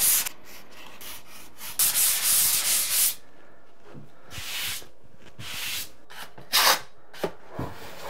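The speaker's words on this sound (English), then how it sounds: "I'm gonna sand this out." Joint compound being sanded by hand in a basement stairwell, rough scratchy rubbing strokes in uneven bursts with short pauses between them, close and moderately loud, no talking.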